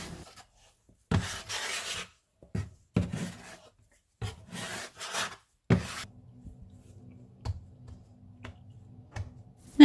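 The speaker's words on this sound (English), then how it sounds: "take your second half and just start working it into a smaller ball, and you're going to use your bench scraper again for this" Pizza flatbread dough is worked into a small ball on a counter with a bench scraper, giving short, soft rasping scrapes and rubs in bursts, separated by quiet pauses and a few light taps.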